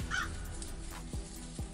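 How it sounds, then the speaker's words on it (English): A raven squawks once, far off in a quiet woodland, a brief harsh call early on above a steady hush of background ambience. "Every now and again, you'll hear the squawk of a raven off in the distance."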